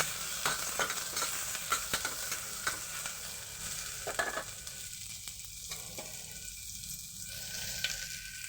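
Onions frying in a little oil for mutton and potato curry: a continuous crackling sizzle with repeated spatula clacks and scrapes against the pan, close up and moderately loud, with no talking.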